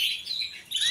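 A healthy female cage bird that has just finished molting gives bright, high chirping calls in a quick sequence. They sound close and clear and end in a sharper note.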